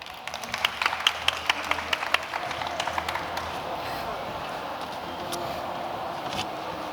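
Audience applause at an AI innovator pitch competition, scattered sharp claps rising briefly in the first few seconds then thinning out over a steady room murmur.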